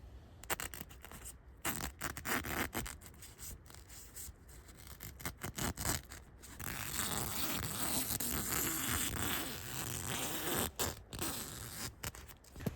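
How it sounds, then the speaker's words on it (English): Close, crisp snipping and rasping of scissors cutting green parachute fabric, in irregular bursts with short pauses and fabric rustling between cuts. "We have to cut that out with scissors so that there's an actual opening to get into the yurt."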